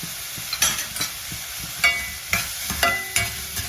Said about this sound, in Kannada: ಮಾತು ಮಾತಾಡ್ತಾ ಈರುಳ್ಳಿ ಫ್ರೈ ಆಗಾಯಿತು